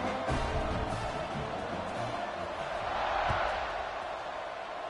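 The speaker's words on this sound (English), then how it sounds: "this crowd is buzzing after that last score" Stadium crowd at a college football game, Texas A&M against Penn State, keeps up a steady broad roar throughout, swelling slightly near the end, with faint thumps mixed into the din.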